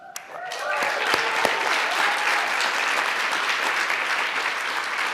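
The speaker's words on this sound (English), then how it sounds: "Give that applause again now for our second team," Audience applause at a design pitch and demo day, dense and sustained throughout, with a few sharper claps near the start.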